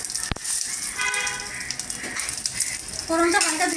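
Whole cumin seeds and dried red chillies sizzle and crackle in hot oil at close range, with a sharp tap at the start and a light clatter of stirring.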